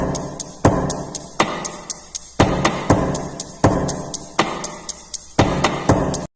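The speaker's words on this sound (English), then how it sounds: "Let's run it through one more compressor, and here's our drum kit." A drum kit beat built from a Call of Duty down sound, with reverb and compression, loops as a steady pattern of heavy kicks and snares under rapid ticking hi-hats, loud and alone.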